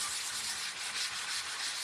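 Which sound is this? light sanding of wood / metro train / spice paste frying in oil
light sanding of wood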